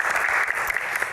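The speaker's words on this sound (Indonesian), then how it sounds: "Tepuk tangan teman-teman." Studio audience applauding on an Indonesian televised Q&A talk show; a brief, dense burst of clapping from the crowd.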